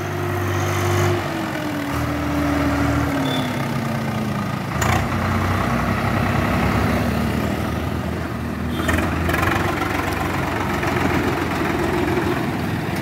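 A Swaraj 744 XT tractor hauls about 5000 bricks, some 160 quintals, up onto the Mirapur highway. Its diesel engine drones loud and close at a steady low pitch, with a brief rise and dip partway through.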